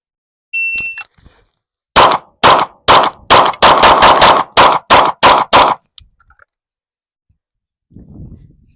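Pistol shots ring out on an outdoor range during a shooting drill that moves between targets at 25, 7 and 15 yards: a short electronic start beep, then about a dozen loud, sharp reports in quick uneven succession, followed by quiet.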